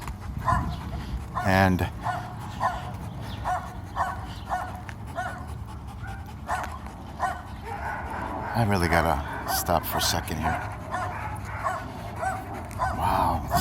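Guard dogs barking and whimpering at a patrolled site, several short yips and barks scattered through the clip, some close and loud, mixed under someone talking throughout.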